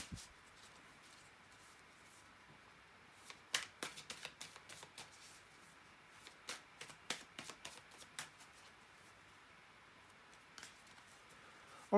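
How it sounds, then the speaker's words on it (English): Tarot cards being shuffled in quick riffling bursts, a rapid flurry of crisp papery snaps in the middle, then a few scattered flicks, close and fairly quiet. "bear with me a second, guys, to shuffle the tarot cards"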